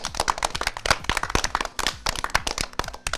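An audience claps together in steady, dense applause, many hands close by and moderately loud, with no talking over it.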